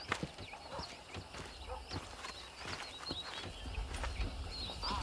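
Horses in Red Dead Redemption clopping their hooves in an irregular rhythm, with a neigh and bird calls over the top and a voice talking faintly beneath.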